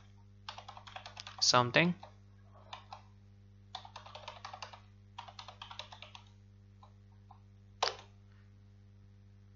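Someone typing a password for a Kali Linux install on a computer keyboard, with quick bursts of close key clicks separated by short pauses, a brief word spoken among them and a low steady hum underneath.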